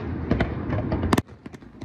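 Fireworks pop and crack in a quick series of sharp bursts, loud and close, with one especially hard bang before the noise drops to quieter scattered pops.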